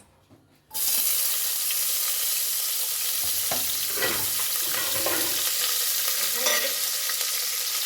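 Chopped onion sizzles loudly and steadily in hot ghee, with the clatter and scrape of a spoon stirring the pan now and then. The frying begins abruptly after a quiet moment and then holds at a constant level.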